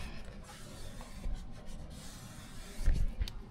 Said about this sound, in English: We're just scraping the surface.